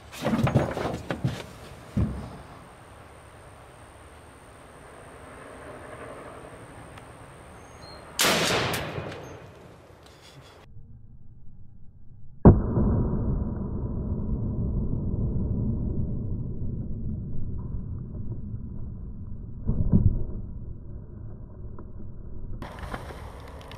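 Several loud, sharp rifle shots from assorted sniper rifles strike a pane of bulletproof tempered safety glass, each blast followed by a ringing decay and rumbling room tone, spaced unevenly with quieter gaps between.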